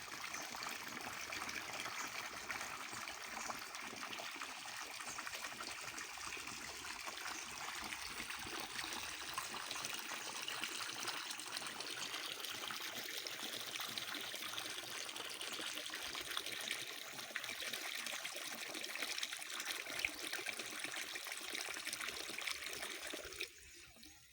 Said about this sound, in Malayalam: ഇത് തുറന്നതിന് വെള്ളം വരും.